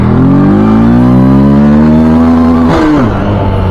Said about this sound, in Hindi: देखा भाई फर्स्ट गियर में ये बाइक देखो कितनी ज़्यादा गई